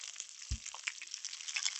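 Chopped onion and carrot frying in a pan with garlic and green chilli: a bright, steady sizzle close by, with one brief dull knock early on.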